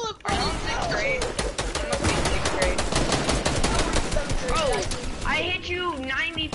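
Rapid bursts of AR rifle fire crack out in a shooter video game, fast repeated shots dense through the middle, with young players' voices talking loudly over and after the gunfire.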